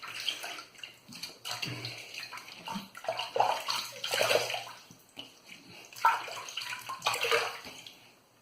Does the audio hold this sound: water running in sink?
yes